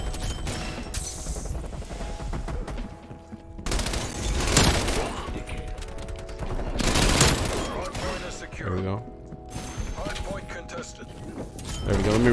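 MP5 submachine gun fire in Call of Duty Warzone, heard as several loud bursts of rapid shots that alternate with quieter gaps filled by mechanical clicks, with someone talking throughout.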